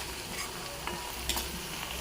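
Onion fries in a pan, a continuous close sizzle and crackle with light stirring scrapes, no voices.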